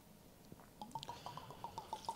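Liquor trickles through a funnel into a 1-liter wooden barrel, a quiet run of soft drips and gurgles that grows steadier and slightly louder over two seconds, with no talking.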